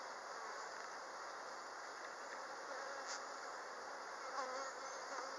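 Bees from a pretty full beehive hum in a dense, continuous buzz during an inspection, close and steady, with no talking.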